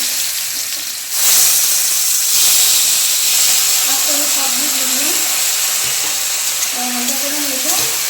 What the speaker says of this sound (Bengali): আস্তে আস্তে ভেজে নেবো লাল লাল করে